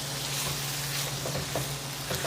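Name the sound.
stirring rice into ground beef in a pan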